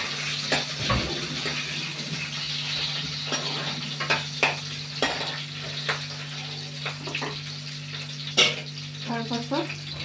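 Onion and green chilli fry in a pan in steady sizzle, with stirring scrapes and a few sharp clicks and clatters over a low hum.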